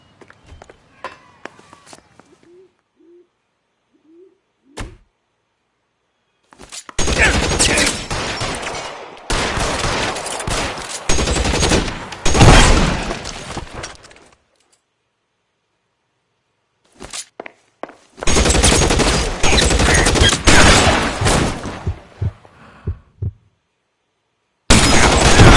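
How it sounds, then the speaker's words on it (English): Gunfire in the video game LA Noire: two long, loud stretches of rapid overlapping shots with quieter single cracks and footsteps between them, after a mostly quiet opening. "Shots fired."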